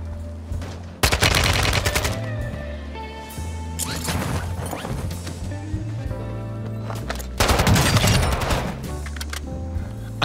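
Fake gunfire from a decoy grenade in the Warzone video game: loud bursts of rapid automatic shots in two main volleys, with scattered quieter shots between, set against steady game music.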